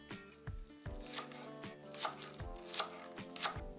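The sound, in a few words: chopping green onion with a knife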